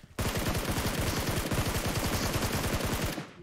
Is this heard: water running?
no